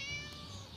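A brief, faint meow from a cat in the video game Scary Teacher, a single short tonal cry heard alone.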